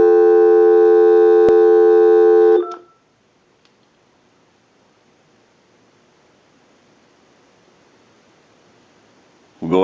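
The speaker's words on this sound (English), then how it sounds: "Give you some dial tone." A Uniden EX965 cordless telephone under repair puts out a steady, loud dial tone over its speakerphone for about two and a half seconds. The tone then cuts off to near silence, and a short burst of sound returns at the very end.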